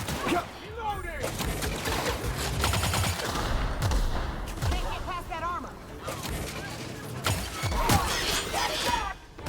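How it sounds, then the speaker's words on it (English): A barrage of rockets and gunfire erupts in The Outer Worlds Peril on Gorgon combat, a dense clattering fusillade with crashes, mixed with game voices talking throughout. "Shoots a little barrage of rockets"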